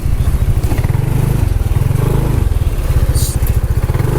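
Motorcycle engine running on Petroasia Revol 20W50 oil at a gentle pace, giving a close, steady chugging thrum with a slight rhythmic clatter throughout.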